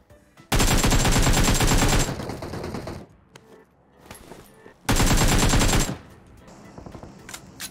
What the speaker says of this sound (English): Bunch of shots right in front of me.